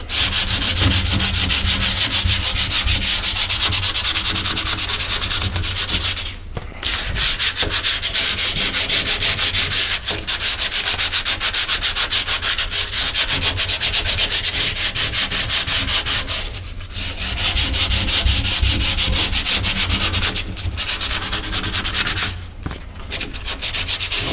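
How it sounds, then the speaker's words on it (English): Sandpaper scratches up shiny gel-coated fiberglass, a loud continuous close-up rubbing that stops briefly a few times before starting again, with no voices. "so it's just scratching up the surface, getting that shiny surface off of there"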